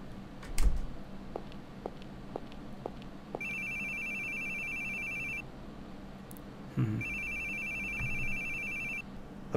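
A telephone rings in the horror video game The Boogie Man, two bursts of an electronic warbling ring over a dark ambient backdrop, with faint footsteps and a low thud between them.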